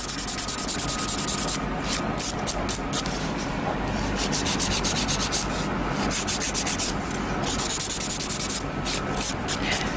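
Gel nails are filed and shaped with rapid back-and-forth rasping strokes in quick bursts with short pauses, close and crisp.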